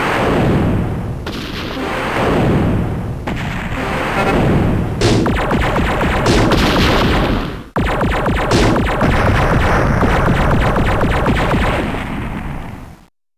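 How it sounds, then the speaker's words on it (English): Bombing and artillery fire in the Macintosh game Shockwave Assault, a loud relentless barrage of booming blasts and rapid gunfire bursts over a rumbling bed, with one sharp cut midway before the pounding resumes. "Moscow is in flames from repeated bombing."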